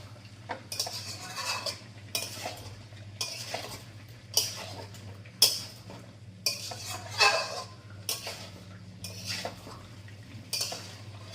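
A spoon scrapes and clinks against a pot while chicken and mixed vegetables are stirred together, a steady series of metallic knocks and scrapes roughly every second, close and fairly quiet.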